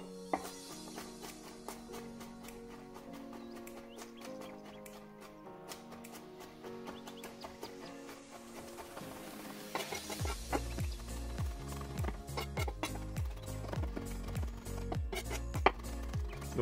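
Quick rapid knife chopping of garlic on a board, a dense run of sharp clicking strikes that grows louder and heavier in the second half, steady and close.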